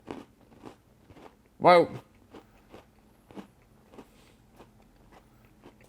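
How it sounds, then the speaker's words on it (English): A crunchy Pumpkin Spice Oreo shortbread cookie is bitten with one loud, sharp crunch, followed by quiet, soft chewing under brief speech. "You've got the crunch of the shortbread cookie"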